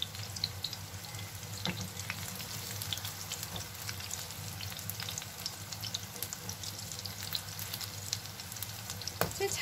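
Eggplant pieces sizzling in hot oil, a soft continuous frying crackle with scattered pops, under a low steady background hum.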